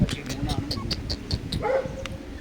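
A litter of six puppies, three male and three female, lets out a quick series of high, thin yips and little whimpers, close by, interleaved with people talking over them.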